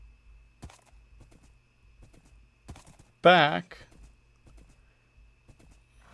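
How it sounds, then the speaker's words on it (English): Horse hooves clopping in the Minecraft video game, scattered soft game thuds before one short burst of hoofbeats with a horse-like snort, under a brief spoken word. "And then I found this horse on the way"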